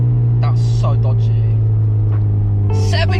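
A project car's engine idles with a loud, steady low hum close by, while people talk over it.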